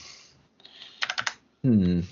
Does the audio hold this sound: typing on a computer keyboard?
yes